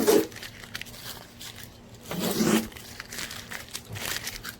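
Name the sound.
masking tape being peeled off a car's paint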